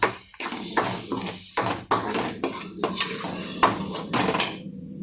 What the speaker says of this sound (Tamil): கொஞ்சம் நல்லா எண்ணெய் மேலே வர வர நல்லா வதக்கணும்.